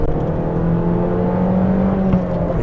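A 2012 Abarth 500 hot hatch (135bhp) engine pulls hard and steady close by, its drone rising through the revs with a brief dip around a gear change, loud and continuous.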